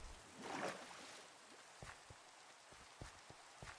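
Rain falls in a Minecraft world at night, a soft steady patter with a brief louder swell early on and scattered distinct drops ticking alone afterward.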